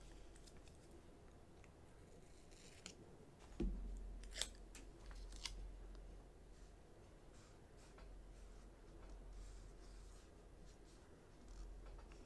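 Scissors snip and trim a paper planner sticker in a quiet room, with faint, close cutting clicks and a couple of sharper snips partway through, barely above the background.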